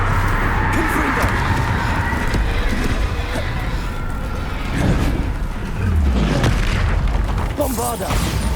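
Confringo spell blasts booming in Hogwarts Legacy combat, dense and loud throughout, with repeated fiery impacts layered over busy battle noise and occasional voices.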